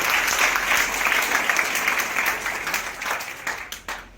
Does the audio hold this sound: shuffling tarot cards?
no